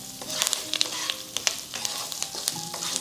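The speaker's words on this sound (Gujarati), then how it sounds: "હવે આપણે બટેકાને મિક્સ કરવાના છે" Potatoes are stirred into a spice mix in a pan for a fasting-day dry potato dish, a soft sizzle broken by frequent scraping and clinking strokes of a spoon, close and steady with no talking.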